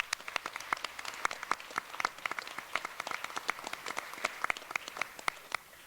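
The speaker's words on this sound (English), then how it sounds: "Let's give him a round of applause" A small audience at a chamber federal election candidates forum in Lethbridge gives a round of applause for a moderator, sparse individual claps rising and falling at moderate distance with no talking.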